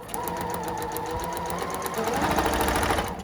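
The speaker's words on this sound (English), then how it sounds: "I'm going to sew between the 3 and the center square." A sewing machine stitches quilt fabric for a log cabin charm-pack quilt, its needle whirring in a steady fast rhythm close by and speeding up slightly toward the end, with no talking.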